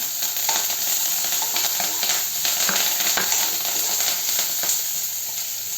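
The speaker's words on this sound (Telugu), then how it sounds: "దీనిలోనే మనం పచ్చిమిరపకాయలు, అల్లం, కరివేపాకు వీటిగా వేసేసుకుని" Green chillies, ginger and curry leaves frying in oil for papaya curry, a dense continuous sizzle with scattered clicks and scraping stirs, close and steady with no talk.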